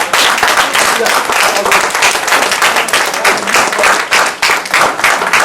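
Loud, dense audience applause at a youth summit, sustained clapping filling the room with crowd noise and voices mixed in throughout.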